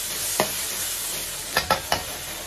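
Cauliflower stir-frying in a wok with soy sauce, a soft steady sizzle broken by one stirring scrape and then three quick tosses near the end, close and without voices.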